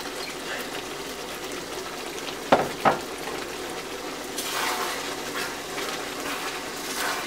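Chicken manchurian stir-frying with spring onions gives off a soft, steady sizzle, with a couple of sharp utensil clicks against the pan midway.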